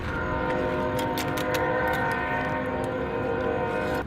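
A train rolls past with a sustained, loud tonal drone and horn-like harmonics over steady rumbling and intermittent clanks, continuous throughout and fairly near, with no voices.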